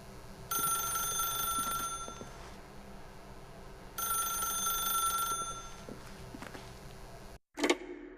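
Old-fashioned telephone bell ringing in The Stanley Parable video game, two long ringing bursts with a pause between, then a short click as the receiver is picked up; no talking.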